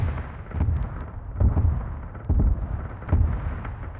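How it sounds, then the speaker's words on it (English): Violent explosions and gunfire in a Warhammer 40K Dark Angels battle game, with deep booming blasts landing every second or so over a constant low rumble of combat, loud and close. "running towards this heinous amount of violent explosions and gunfire"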